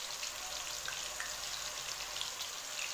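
Chicken koftas fry in oil in a pan, giving off a steady, even sizzle and fine crackling hiss that carries on without a break from start to finish.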